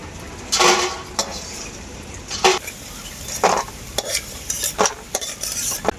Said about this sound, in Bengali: বড়িগুলোকে একদম লাল লাল করে ভেজে নেব